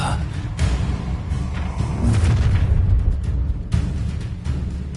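An Incendiary spell erupts in Hogwarts Legacy combat, a heavy booming fiery blast with rumbling low end mixed with game action and voices.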